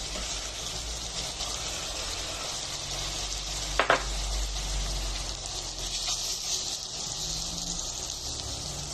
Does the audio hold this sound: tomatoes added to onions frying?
yes